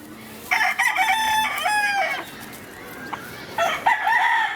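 A young gamecock (stag) crows on a farm, loud and close, giving two crows separated by a short pause, with no talk over them.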